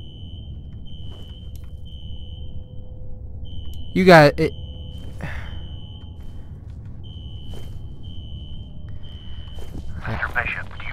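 A fire alarm in the video game F.E.A.R. sounds as a steady, repeating electronic beep-tone pulsing at regular intervals through the scene, with a burst of other game noise and voices speaking over it.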